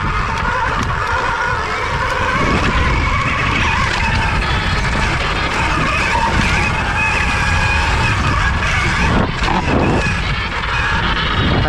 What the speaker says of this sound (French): Alors le bruit que vous entendez, c'est ma roue qui touche au niveau du garde-boue.